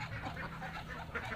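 Ducks and muscovy ducks quacking in a steady, overlapping chorus while being fed maggot feed spread across their pen; the calls sound close and fairly loud throughout, with no talk.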